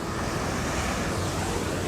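Sea waves crashing against coastal rocks in Sri Lanka, a dense steady roar of surf mixed with wind buffeting the microphone, loud and continuous throughout.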